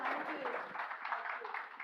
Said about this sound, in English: please give Ms. Rekha Puri a bigger round of applause